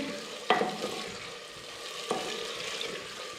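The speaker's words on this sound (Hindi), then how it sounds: "आलूओं को मसाले के अंदर अच्छी तरह भून लेंगे" Cubed potatoes roasting in masala in a pan sizzle steadily while a spatula scrapes through them twice, the strokes spaced well apart, with no voices.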